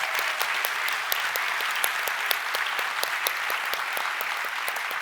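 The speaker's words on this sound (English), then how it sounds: "I want to have you guys give a big round of applause to our volunteers and our families" Audience at a magic convention's closing remarks applauds volunteers and families, a moderately distant, steady round of clapping with individual sharp claps standing out through about five seconds.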